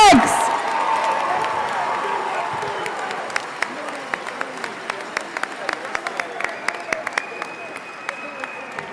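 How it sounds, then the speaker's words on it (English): Crowd at a high school graduation ceremony applauding and cheering, a loud burst with whoops at the start that settles into steady clapping, thinning to scattered individual claps toward the end. "one more round of applause, and I think a standing ovation for this fantastic class"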